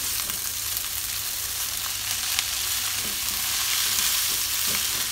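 Fried noodles with sliced sausage sizzle steadily in a pan as the water cooks off, a dense, even crackle with a few soft stirring scrapes near the end and no voices.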